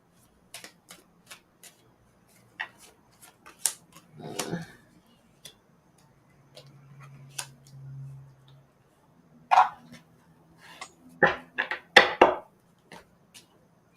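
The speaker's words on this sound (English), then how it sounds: "You saw me shuffling, Simone, all right?" Tarot cards being shuffled by hand, producing a series of light, dry riffling taps and flutters, some close and crisp, with quieter pauses and soft murmuring in between.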